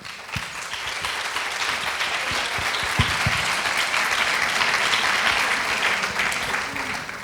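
An audience at a symposium panel discussion applauds a guest, producing a loud, sustained wash of clapping with a few sharper individual claps standing out near the start.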